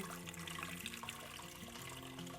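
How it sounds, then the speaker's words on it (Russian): Hot water pours and gurgles steadily from a jar with a perforated lid into a pot, a continuous close splashing stream with no talking. "слить горячую воду в кастрюлю"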